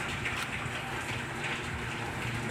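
Rain falls on a street in Tacloban City as a steady, soft hiss of drops that stays even and fairly faint, with no voices.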